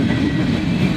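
A freight train rolls past Sharonville Yard with a loud, steady rumble of wheels and cars, heard up close and unbroken.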